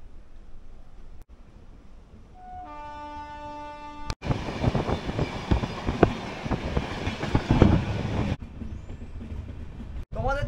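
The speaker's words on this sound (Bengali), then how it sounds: "পাশ দিয়ে কোনো একটা ট্রেন পাস হচ্ছে" A train passes alongside on the Digha to Howrah line at night: a horn-like tone sounds, then a loud, close roaring rush of wheels and carriages lasts about four seconds before dropping away.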